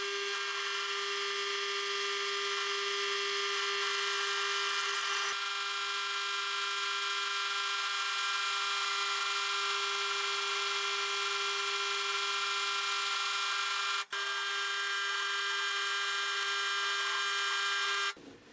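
An electric drill bores M6 holes into a monitor wall bracket, giving a steady, close motor whine with a constant pitch for about eighteen seconds, one brief dip in the middle and a stop at the end.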